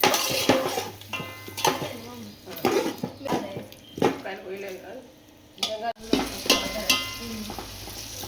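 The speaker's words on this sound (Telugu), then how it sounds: "కాసేపు ఇవన్నీ బాగా కలుపుకుంటూ ఫ్రై చేసుకోవాలి." Chicken biryani masala with chicken pieces and slit green chillies is stirred and fried in a pot, with irregular scraping and clanking strokes over a sizzle, then a hum. The sizzle varies in loudness, and there is a brief sharp break near the end.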